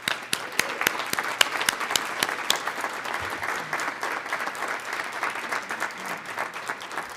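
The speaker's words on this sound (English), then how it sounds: "So let's applaud them." Faculty applauding graduates at a Methodist College commencement ceremony, with sharp individual claps standing out at first before settling into a wide, sustained wash of clapping across a large hall.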